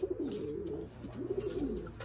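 Pigeons coo nearby in a low, steady run of soft throaty calls that rise and fall without a break, with no talk over them.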